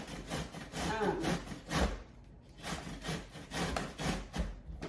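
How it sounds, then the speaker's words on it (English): Zucchini with the skin on being grated, a close, rhythmic rasping that comes in repeated back-and-forth strokes and pauses briefly midway. "we're going to grate quite a bit of this zucchini"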